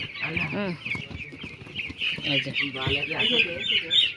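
A flock of chickens on a poultry farm clucking and chirping all at once, a busy, continuous chatter close by.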